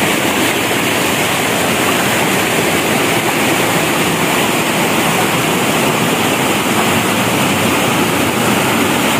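Loud, steady roar of strongly rushing water and crashing waves, dense and continuous throughout with no other sounds standing out.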